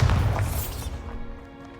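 A Bombarda blasting curse explodes in Hogwarts Legacy, a sharp loud boom with a bright crashing burst up front, then a rumbling decay that fades with a faint ringing tail, no talking.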